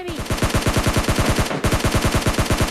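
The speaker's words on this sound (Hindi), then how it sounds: "यहाँ पे सामने से फायरिंग के साउंड आ रहे थे मुझको" Rapid automatic gunfire in the battle royale game PUBG Mobile Lite, loud and close, steady rhythmic bursts of shots with a brief pause midway.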